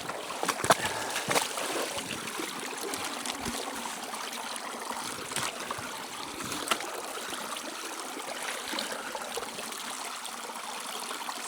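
Water runs steadily through a gold sluice box while hunting flour gold, a continuous close trickling and splashing wash with scattered small spatters.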